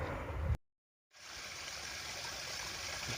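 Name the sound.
mountain creek water rushing downhill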